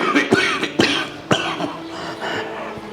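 A series of sharp, close coughs in quick bursts, several in a row, followed by a short throaty sound.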